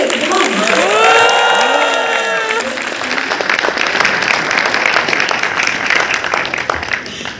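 Loud applause and cheering from a ceremony audience fill the room steadily from start to finish, with dense clapping throughout and a brief higher-pitched whoop or whistle early on.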